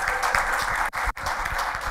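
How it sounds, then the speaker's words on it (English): An audience at a design talk breaks into dense, even applause, a continuous close wash of clapping with two brief dropouts. "So I say we should give Rui a round of applause, right, for living our dreams, right?"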